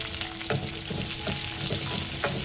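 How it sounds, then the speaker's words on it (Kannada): Chopped onion, curry leaves and green chili fry in hot oil in a pan, a steady close sizzle with a few soft stirring scrapes and clicks over the constant crackle. "ಈರುಳ್ಳಿ ಹಸಿ ವಾಸನೆ ಹೋಗಿ ಚೆನ್ನಾಗಿ ಫ್ರೈ ಆಗಬೇಕು ಅಲ್ಲಿ ತನಕ ಇದನ್ನು ಫ್ರೈ ಮಾಡ್ಕೊಳ್ಳೋಣ"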